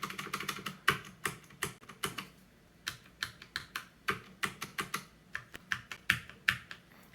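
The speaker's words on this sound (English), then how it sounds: "And generally when I'm typing lighter than that, so it sounds more like this." Light typing on a Drop CTRL high-profile mechanical keyboard gives crisp, close keystroke clicks in uneven bursts, with no voices over them.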